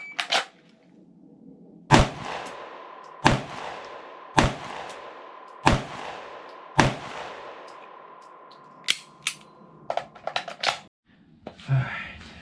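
Five evenly spaced, loud, sharp gunshots from a pistol fired at a ten-yard bullseye target with an SOF Industries AIM aiming system. Each shot rings out briefly, followed by lighter clicks and handling noise.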